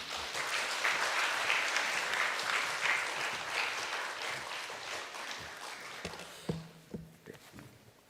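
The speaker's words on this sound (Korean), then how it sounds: "우리 목사님 나오실 때 우리 박수로 환영하겠습니다" A Friday prayer meeting congregation applauds to welcome a pastor forward, the steady crowd clapping gradually fading, followed by a few footsteps and knocks as someone walks up.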